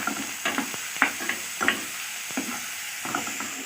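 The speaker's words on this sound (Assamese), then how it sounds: "সেইখিনি এতিয়া ভালদৰে লৰাই ল'ব লাগিব।" Salted onions fry in a pan for a fish roe dish, a low steady sizzle under intermittent scraping strokes of a spoon stirring them, close and fairly quiet.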